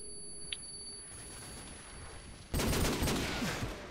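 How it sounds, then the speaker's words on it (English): Grenade explosions in the Call of Duty 4 ProMod video game: a sudden loud broadband blast at mid-clip followed by sustained rumbling noise, after a quieter stretch of game background. "In come the nades."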